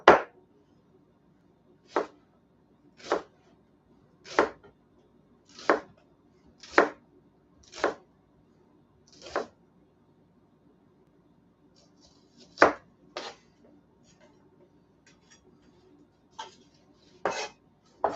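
A big slicing knife chops an onion on a board for steak sandwiches, with sharp single strokes spaced about a second apart, a short pause, then a few more cuts, close and clear.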